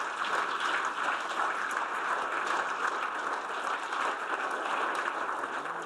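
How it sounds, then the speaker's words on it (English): Sustained applause from a large audience giving a standing ovation after a Ukrainian speech, a dense, even roar of clapping that holds steady throughout with no voices above it. "a standing ovation"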